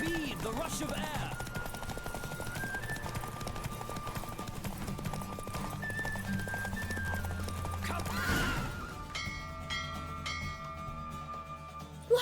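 A galloping horse in The Witcher 3, with steady hoofbeats and a clear neigh near the start, running under music before the hooves fade out and bright ringing tones take over at the end.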